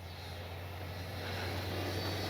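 A Freewing 90mm Zeus RC jet on its maiden flight gives a faint, steady ducted-fan roar that swells slightly as it passes, heard at a distance with no talk.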